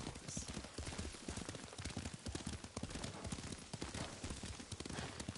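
Horse hooves clip-clop in a steady, fairly busy rhythm while riding in the video game Ghost of Tsushima, mixed with game music and ambience and with some voice underneath.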